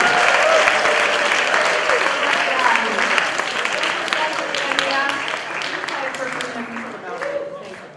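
Loud, sustained audience applause at a poetry festival, dense clapping from many hands that fills eight seconds and slowly tapers toward the end.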